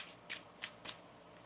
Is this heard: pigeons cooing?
no